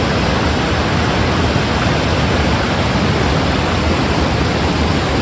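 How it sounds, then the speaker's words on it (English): Water rushing over a weir on the River Dane, a loud, steady, broadband roar with no break, heard alone without voices. "Back at the weir now."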